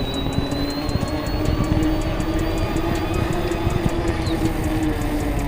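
A Bafang M560RS mid-drive e-bike motor on a custom CEF69 frame runs in Boost mode, giving a steady, loud mechanical whir with a thin high whine on top and no voices.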